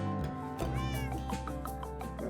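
A cat in Minecraft meowing, several short, clear, tonal meows close up in quick succession over a soft background.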